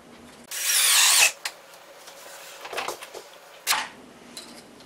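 A power drill drives screws down through a hardie board countertop base pushed tight against kitchen cabinets for a pour-in-place concrete countertop: one loud, close whirring burst of about a second, followed by a few brief knocks and scrapes.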